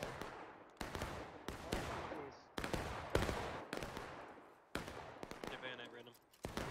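Rebel infantry rifle volleys crack out in a video game, a series of sharp, loud bursts roughly every half second to second, each with a rolling decay, ragged like independent fire rather than one clean volley.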